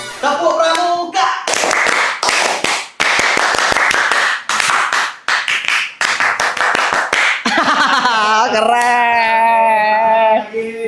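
A group performs the scout clapping routine (tepuk pramuka): loud, close bursts of clapping in set rhythmic patterns separated by short pauses, ending with voices calling out in a sustained, tonal way.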